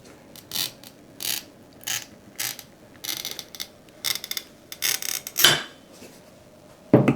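Glass being scored with a Delphi Cutters Mate cutter: a series of short, crisp scratching passes in a steady rhythm, each a brief gritty burst with quiet gaps, close and moderately faint, with a sharper snap near the end.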